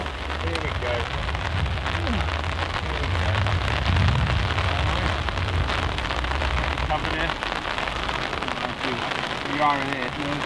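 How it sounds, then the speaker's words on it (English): Rain falls steadily on a golf course, a dense, even patter close to the microphone, with a few faint voices and small knocks now and then. "Keep out the rain."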